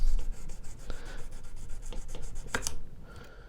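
A fret crowning file draws along the sides of guitar frets, giving close, soft rhythmic rasping strokes with a sharper scrape near the end, no voices.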